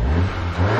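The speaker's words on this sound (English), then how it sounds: "you can certainly hear a lot more air rushing into the engine" A Volkswagen MK7 Golf R with an intake modification revs briefly, a loud, close engine roar with a broad rush of intake air over a deep low drone.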